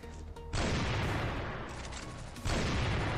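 Dense, loud gunfire from the CF Mobile shooter game, a continuous roaring burst of shots that cuts off briefly and then resumes at full intensity.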